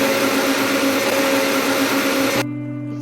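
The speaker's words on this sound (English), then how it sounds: "Blend your pumpkin leaves." A blender whirs steadily at high speed, chopping boiled pumpkin leaves, then the motor note drops and winds down near the end as blending stops.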